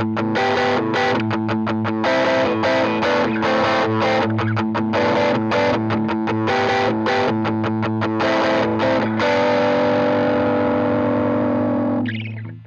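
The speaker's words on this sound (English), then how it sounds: "puts that distortion in, and I stack it with all three, so it compresses a lot more" Electric guitar solo played through three stacked distortion pedals for a compressed plexi-style drive, loud and continuous with fast bursts of notes, ending on a long sustained ringing note that fades, with no talking.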